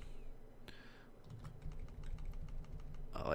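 Quiet typing on a computer keyboard, a steady run of light clicks and taps while selecting with the arrow keys and copying code, heard alone and close.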